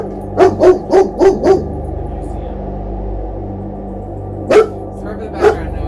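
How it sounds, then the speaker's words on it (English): A dog barks five times in a quick run, pauses, then barks twice more, loud and close, with a person talking and a low hum underneath. "Sorry for the background noise. We have a dog"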